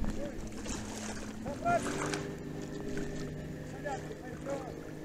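An old Soviet motor boat engine drones steadily on the water, a low, even hum beneath wind and people talking aboard.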